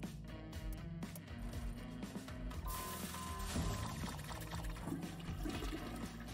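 A cartoon toilet flush from the Land of the Free slot video game: a continuous gurgling, rushing water sound with a game music bed underneath, steady and fairly loud throughout with no speech.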